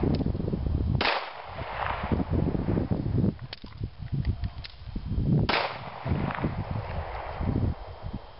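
Sharp pistol shots crack on an Air Marshal qualification course, with two loud reports several seconds apart and a few lighter pops and handling noises between them. No one speaks.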